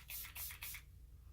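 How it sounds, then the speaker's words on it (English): A handheld spray bottle spritzes a makeup sponge in three quick, close hissing bursts, then quiet. "I am going to spritz my sponge"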